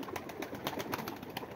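Tumbler pigeons cooing nearby, a soft steady murmur of repeated coos over faint background noise, with no voices.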